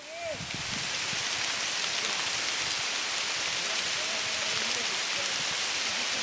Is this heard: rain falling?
yes